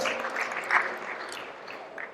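Guests at a 50th golden anniversary gathering applaud, a short burst of mixed hand clapping from a small group that swells briefly and then tapers, with no talking over it.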